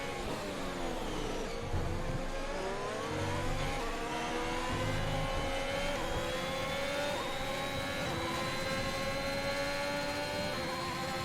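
A Formula 1 car engine in F1 2021 at the French Grand Prix, a high, continuous scream rising steadily through the gears with brief downshift dips, loud and unbroken.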